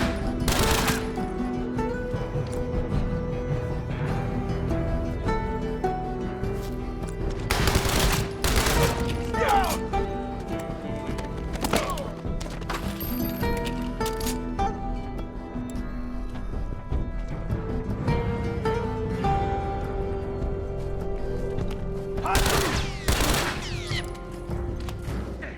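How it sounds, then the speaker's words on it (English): Burst pistol gunfire in The Last of Us video game: repeated quick bursts of shots crack over a continuous mix of game music and ambience, with heavier clusters near the start, middle and end. "The burst pistol is definitely a give-take weapon."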